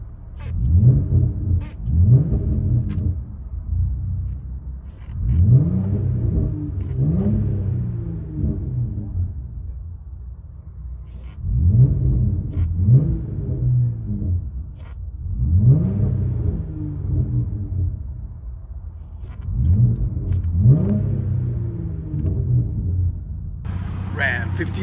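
Ram 1500 pickup with a 3.6-liter V6 and an NTR race muffler, resonator delete and dual tips, heard from inside the cab as the engine revs up and settles in repeated waves of low rumble, with talking over it.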